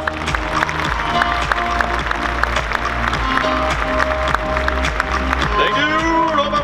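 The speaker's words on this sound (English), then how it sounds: "A huge round of applause for Roba Muerta." A crowd at a DreamHack 2022 cosplay contest claps and cheers for a costumed contestant, steady applause under loud music and a presenter's voice talking over it.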